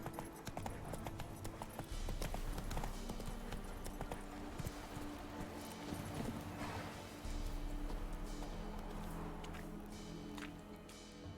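A horse gallops in The Witcher 3 video game, its hooves clip-clopping in a fast, steady rhythm throughout, mixed with game ambience and a faint background hum.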